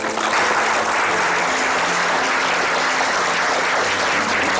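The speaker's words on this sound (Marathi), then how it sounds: "टाळ्या आल्या पाहिजे तुमच्या" An indoor audience at a homeopathy clinic event claps loudly and steadily, a dense sustained applause filling the whole stretch with no talk over it.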